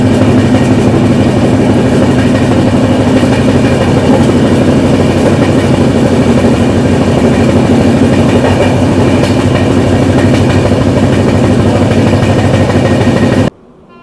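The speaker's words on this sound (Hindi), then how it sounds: "फिलहाल टुंडला से डिपार्चर हो रहा है हमारी ट्रेन का" A Humsafar Express passenger train pulls out of Tundla, its steady rumble and rhythmic clickety-clack of wheels on rail joints loud and close from inside the coach, with no talk.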